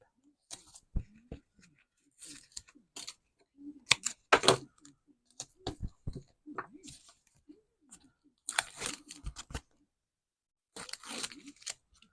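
Foam tape peeled and pressed around the edges of a shabby chic Valentine card, heard as scattered crinkly tearing and clicking bursts, close and fairly quiet, with short gaps of silence between them.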